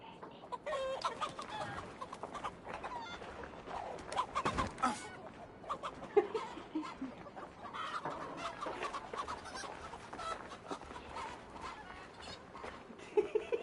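Chickens clucking and squawking in the video game Assassin's Creed Valhalla, a busy scatter of bird calls over faint ambient game sound, moderately quiet with no talking.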